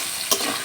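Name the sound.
potatoes frying and being stirred in a pan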